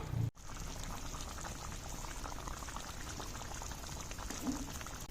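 A curd chicken curry simmers in a pot as the water used to rinse the spices is poured in, giving a close, steady bubbling and liquid wash after a brief knock at the start.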